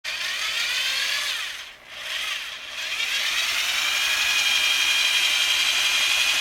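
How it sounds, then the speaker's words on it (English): A power drill bores holes in an alternator bracket on a 1999 Jeep Cherokee XJ, a loud, steady high whine that dips briefly as the load changes, then runs on strongly. "we have the holes drilled for our alternator bracket bolts to kind of go in"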